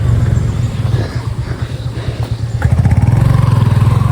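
A motorcycle engine runs close by on a mountain trail in Nepal, its steady low rumble rising into a louder, rhythmic throb near the end.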